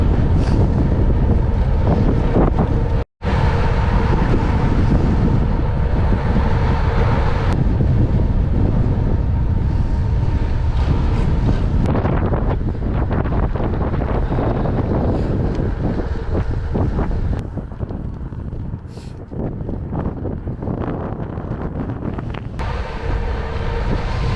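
Heavy wind roars across the microphone during a winter bicycle descent with a tailwind at 40–50 km/h near Daegwallyeong, a loud continuous buffeting that drops out for a moment early on and eases slightly near the end.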